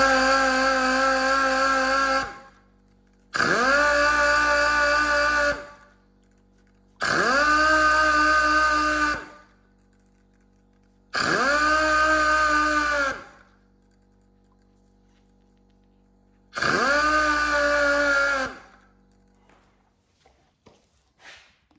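Five separate bursts of a loud, steady mechanical whir, each lasting about two seconds with short silences between, a power sander lightly sanding Ferrari car paint in passes.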